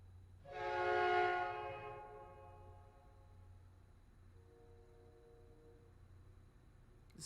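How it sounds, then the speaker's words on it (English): A train horn sound effect plays during a live hockey commentary stream: one loud sustained multi-tone blast that fades over about two seconds, followed by quiet background hum. "I'm gonna cue the train horn."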